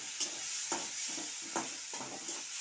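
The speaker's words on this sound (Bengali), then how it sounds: "প্রথমেই চিংড়ি মাছটা ভালো করে ভেজে নেব" Prawns fry quietly in oil with salt and turmeric as a spatula stirs the pan in a few soft, evenly spaced scrapes over a faint, steady sizzle.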